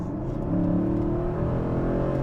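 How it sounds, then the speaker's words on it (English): A Mercedes SLS AMG's deep, burbling German V8 engine revs up close by, its rumble climbing and holding steady for a couple of seconds. "It sounds like a big burbly American V8, but it's a big burbly German V8"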